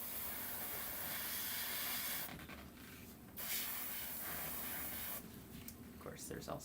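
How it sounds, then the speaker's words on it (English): Airbrush spraying primer onto miniatures, a broad steady hiss broken by two short pauses, with people talking faintly in the room. "Normally, it does not take this long to airbrush prime."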